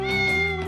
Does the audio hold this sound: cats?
yes